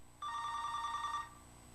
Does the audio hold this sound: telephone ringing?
yes